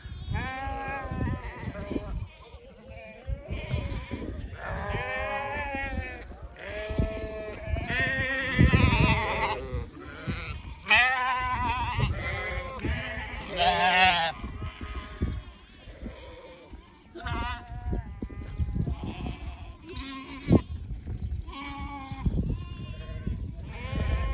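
A flock of meaty, milky purple-wool sheep bleats nearby, the repeated cries overlapping and rising and falling in loudness, with people talking among them.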